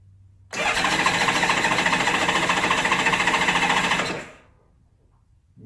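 A Honda GL1500 motorcycle engine cranks over on the starter with the choke on, a loud, rapid rhythmic churning that runs for about three and a half seconds without firing, then stops.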